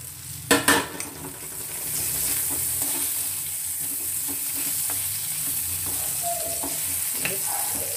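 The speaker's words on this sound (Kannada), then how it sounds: "ಒಂದು ಪ್ಲೇಟ್ ಮುಚ್ಚಿಡೋಣ, ಚೆನ್ನಾಗಿ ಫ್ರೈ ಆಗಲಿ" Brinjal fries in oil in a pan on a low flame for eggplant gojju and is stirred. A couple of sharp clanks open a steady, close sizzle that runs throughout, with no talking.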